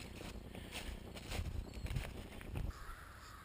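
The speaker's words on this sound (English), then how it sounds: "the sound of all those crows having a fit means there's some animal up there that they're not happy about" Several crows caw in agitated bursts, mobbing an animal up in the trees, repeated harsh calls at moderate distance over light wind noise outdoors.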